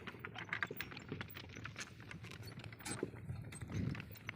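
A donkey pulling a village cart loaded with grass clip-clops along in a fast, even rhythm, faint and somewhat distant, with a little background rattle.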